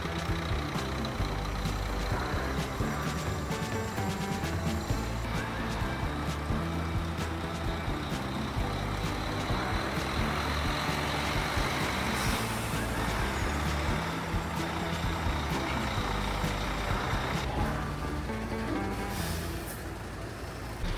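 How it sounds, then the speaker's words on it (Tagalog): A Scania K360 bus chassis with a 360-horsepower engine and semi-automatic gearbox runs steadily, a close, constant diesel drone with no speech. "Scania K360, 360 horsepower with semi-automatic gearbox."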